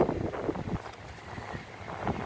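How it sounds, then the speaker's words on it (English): Wind blowing between two brick buildings outdoors, a steady broadband rushing and buffeting against the microphone, fairly loud and continuous with no speech. "the wind is just going to just keep blowing"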